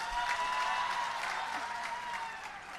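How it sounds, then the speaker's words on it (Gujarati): A crowd at a Gujarati political rally claps loudly and steadily, a dense burst of applause that fades slightly toward the end. "એવા ચૈતરભાઈ માટે જોરદાર તાળી થઈ જાય"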